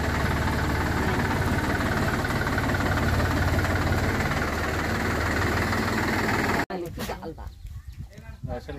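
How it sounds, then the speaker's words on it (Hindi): A tractor engine idles at a paddy market while being loaded with rice, a loud, steady low rumble that runs unbroken for over six seconds before cutting off abruptly, leaving quieter, uneven background noise. "तो ये आ चुका है एक ट्रैक्टर, अभी इसमें भी लोड होगा"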